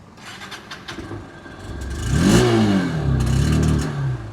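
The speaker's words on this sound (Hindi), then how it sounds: "एग्जॉस्ट नोट गाइस यहाँ पे आपको कुछ ऐसा देखने को मिल जाता है।" A 2025 Honda Unicorn motorcycle's exhaust ticks over at idle, then a single blip of the throttle swells the note into a louder rev that eases back to a steady rumble, close and alone without talk.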